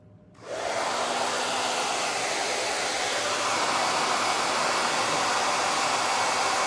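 A hair dryer switches on and blows steadily at close range to dry a craft project, a loud continuous whooshing hum that does not let up.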